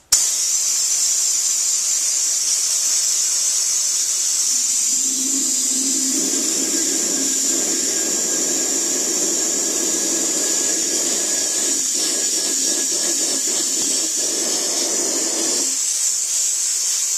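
Acetone sprayed from a squeeze bottle while cleaning Cerakote gear: a steady, fairly loud hiss of spray lasting about ten seconds, with faint spluttering toward the end, heard alone over a constant background hum.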